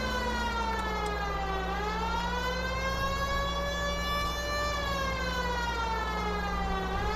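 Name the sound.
police car siren in video game L.A. Noire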